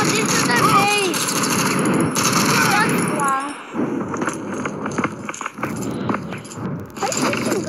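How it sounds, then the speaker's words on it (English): Gunfire in the mobile shooter game Modern Strike: dense bursts of rapid shots and blasts, loud and close, with squeaky effects and voices mixed in before the shooting thins into scattered shots. "Why are you using guns?"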